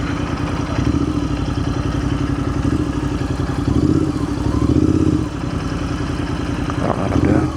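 A motorcycle rides through Stowe, Vermont, with a steady, close engine drone and rumble. Brief swells in engine pitch and throttle come through, with no talking.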